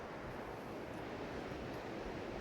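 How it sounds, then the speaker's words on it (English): Continuous broadband rush of a waterfall and river flowing below a tee at Huntly Golf Club, a steady, fairly faint wash of water with no breaks and no voices. "That waterfalls down the bottom there with the river winding its way around."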